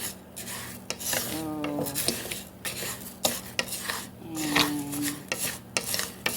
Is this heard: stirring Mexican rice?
yes